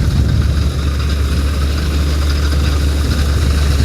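A tractor-driven Shri Balaji thresher works through coriander, a loud, steady low engine drone with constant mechanical rumble and vibration, close by and unbroken, with no voices over it.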